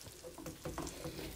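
Onions and sun-dried tomatoes in olive oil sizzling in a pan, a soft, low frying hiss with a few stirring scrapes as the pieces are tossed around, faint and close.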